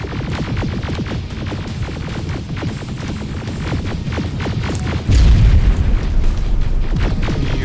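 Heavy in-game explosions rumble through a battle in Pasadena in Terminator Resistance, a continuous barrage of deep booms and crackling bursts capped by one especially loud blast near the end.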